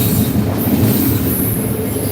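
A Norfolk Southern freight train passing in Millbury, Ohio, with loud, close rumbling wheels, a rhythmic clatter and a high metallic squeal of wheels over the steady roll.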